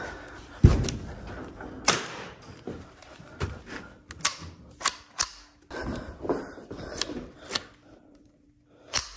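Gunshots fired at a raccoon during a night hunt outdoors: one sharp loud report followed by a string of quieter cracks and clatters at irregular intervals, with no talking.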